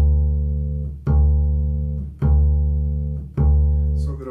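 Double bass pizzicato quarter notes, four low plucked notes in a steady pulse, each ringing and fading with a small break before the next, played close and loud with no talk.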